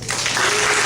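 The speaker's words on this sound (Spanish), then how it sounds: "un aplauso a Elías" A brief, loud burst of applause in a church service, a dense wash of many hands that swells quickly at the start and holds steady.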